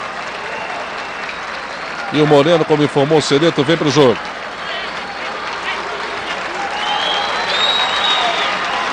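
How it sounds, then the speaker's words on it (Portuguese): Applause from a stadium crowd at a 2003 Brazilian league football match between Corinthians and Criciúma, marking a player's substitution. The clapping swells for about two seconds under a commentator's excited talk, over steady crowd noise. "aplausos também para a saída do Leandro"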